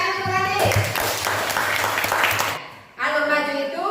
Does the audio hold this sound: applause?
yes